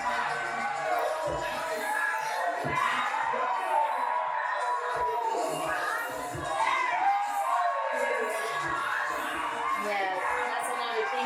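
A lively crowd at a Krump dance battle, with shouts and cheers rising and falling in a dense, continuous hubbub and scattered hype calls heard close and over one another.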